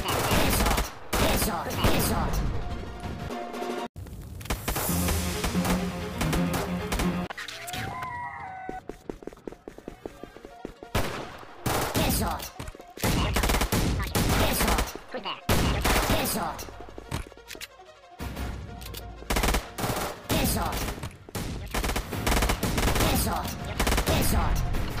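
Rapid gunfire bursts and single shots crack through a tactical anti-terror shooting game, loud and dense nearly throughout with brief pauses, a storage-level firefight.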